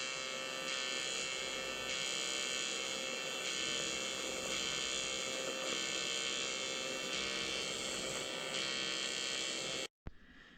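Aluminium welding produces a steady, even electric buzz with a bright hiss that holds for about ten seconds, then cuts out abruptly near the end.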